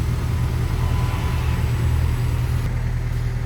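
A Routemaster double-decker bus engine idles steadily nearby, a deep, constant rumble with a low throbbing hum and no voices.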